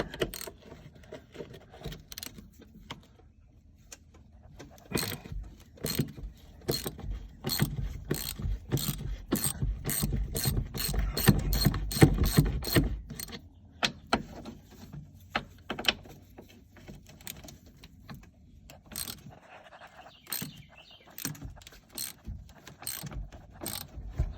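Ratchet wrench working loose bolts on a full-size Chevy Blazer under restoration, with rapid bursts of clicking ratchet strokes, busiest in the middle, plus occasional metallic clanks, close and without talk.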